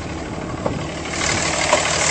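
Pickup truck engine running at a steady idle, a low, even rumble at moderate level that swells slightly partway through, with no voices.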